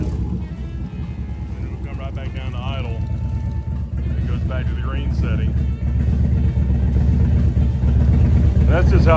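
A Harley-Davidson Twin Cam engine tuned with a Screaming Eagle EFI Race Fueler runs loud and close, its throbbing note rising in pitch as the revs climb, while someone talks over it.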